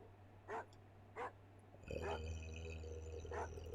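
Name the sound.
dog barking in The Jetsons Amiga video game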